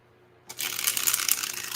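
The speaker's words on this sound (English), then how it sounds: "I can shuffle it still. You saw I shuffled it." Tarot card deck being shuffled: after a quiet half second, a dense, continuous riffling flutter of cards runs close and steady to the end, with no talking.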